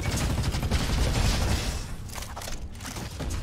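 Constant gunfire from a weapon in a roguelite video game, a dense, loud stream of rapid shots and booms throughout, with a slight dip partway and no talk over it.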